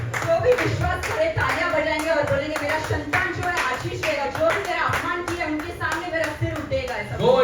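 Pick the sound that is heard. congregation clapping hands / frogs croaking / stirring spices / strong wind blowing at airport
congregation clapping hands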